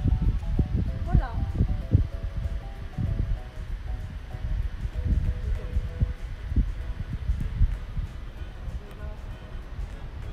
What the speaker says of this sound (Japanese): 今日も風が吹いてるね。